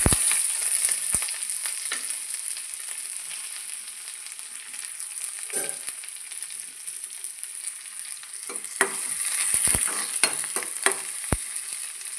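Steady high sizzle of curry leaves frying in hot oil with onions, with occasional sharp crackles and pops and a few utensil clinks, no voices.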